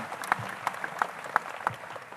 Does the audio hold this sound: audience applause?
yes